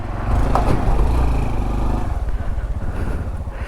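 A dirt bike engine drones loudly past in a storm-damaged neighborhood in Katy, Texas after Hurricane Beryl, rising steadily and then fading as it moves away.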